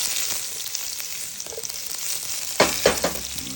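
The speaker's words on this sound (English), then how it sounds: "We got a little olive oil in the pan here. Gonna add some green onion." Green onion hits hot olive oil in a pan with a steady broadband sizzle, and a few louder crackling bursts come in the last second as the onions land and spit.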